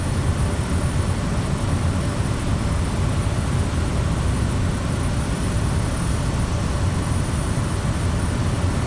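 Engine drone of an SWS Kodiak single-engine turboprop on landing approach to a long runway in Microsoft Flight Simulator 2024, a steady, loud, unbroken rumble that holds throughout without letup.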